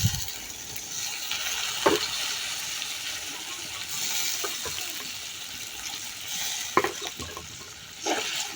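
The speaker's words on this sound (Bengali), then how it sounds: "এখন ঝোলের জন্য অল্প পরিমাণে পানি দিয়ে দিব।" A little water is poured into a sizzling pan of shing fish roe curry, a hissing wash of liquid over steady frying, with a few clinks and stirring scrapes close by.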